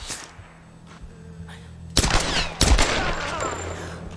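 Gunfire in the Tomb Raider video game on PC, sounding as a few loud bursts of shots around the second half, with quieter game ambience between and no clear talk.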